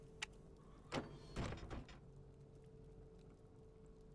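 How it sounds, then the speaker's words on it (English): Double steel doors open in the video game Enshrouded with a quick metallic clank followed by a short sliding whoosh and a thud, then quiet room tone. "These are the double steel doors."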